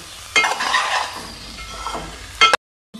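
Egg and gokarakaya frying in hot oil while being stirred, a close, loud sizzle with scraping and stirring strokes that stops abruptly near the end, then a brief resumption.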